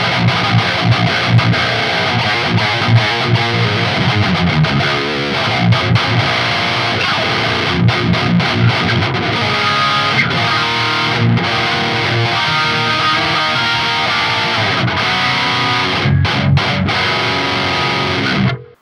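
Thick, high-gain metal guitar riffing through the STL Tonehub PVY Vector amp plugin, heavily distorted with chugging palm-muted rhythms and sustained chords played continuously and loud, no voices.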